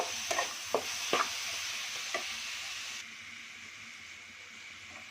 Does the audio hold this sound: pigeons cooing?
no